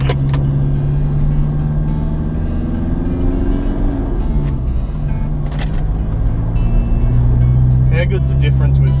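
4WD car on a corrugated dirt road with deflated tyres, a loud continuous engine and road rumble with a steady low drone inside the cabin, voices talking over it.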